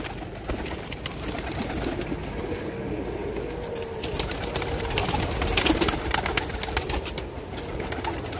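Flying pigeons coo in low, repeated calls amid a busy background of scattered clicks and rustles, with a dull rumble underneath that swells midway through.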